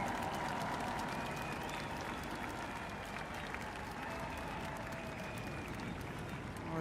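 A large outdoor crowd applauds at Trooping the Colour in London near Buckingham Palace, sustained clapping and cheering spread across the distance, steady and fairly faint throughout.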